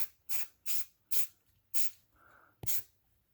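Several short bursts of spray paint hissing from a can onto an old engine, about five quick sprays with brief pauses between, close and fairly loud.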